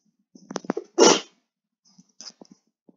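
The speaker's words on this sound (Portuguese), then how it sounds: "quando não é tosse, é espirro" A single sharp sneeze bursts out between short breathy sounds and small vocal noises, close by in an otherwise quiet room.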